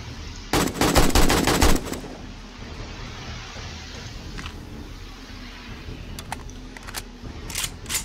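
Rapid automatic gunfire from the zombie survival game 7 Days to Die during a horde night blasts loudly for about a second and a half, followed by a few scattered, fainter single shots over low background rumble.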